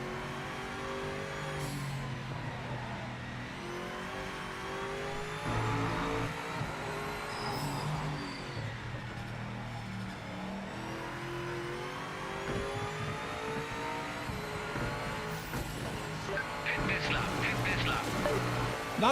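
BMW race car in the racing game Project Motor Racing, its engine revving and shifting through gears, with the pitch rising and falling through corners. Someone talks now and then over the steady engine drone.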